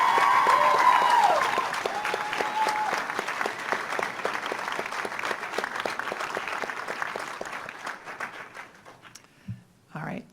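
A ceremony audience gives a sustained round of applause for a white coat ceremony class, dense and steady at first, then thinning over several seconds before a brief spoken voice at the end.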